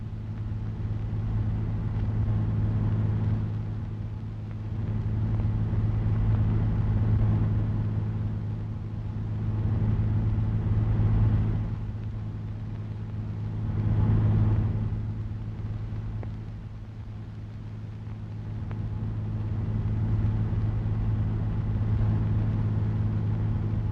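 A 1937 Lincoln Zephyr drives along a road, its engine holding a steady low rumble that swells and eases over the climb, with a few louder surges before settling again; no one speaks.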